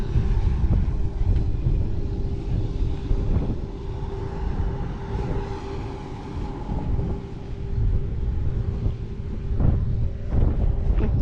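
Steady wind buffeting close to the microphone on a beach at Binic, Saint-Brieuc, a low rumbling roar that rises and falls throughout, with occasional bumps and knocks.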